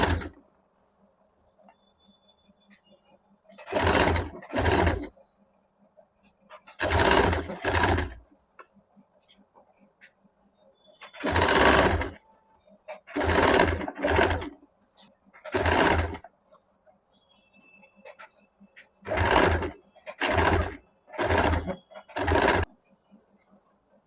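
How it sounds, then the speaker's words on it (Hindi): A sewing machine stitches a strip around a suit neckline at a half-inch seam, running in about nine short bursts of rapid mechanical whirring separated by near-silent pauses. "अभी पट्टी को गोलाई से पूरे गले में हम लोग हाफ इंच पे सिलाई कर लेंगे।"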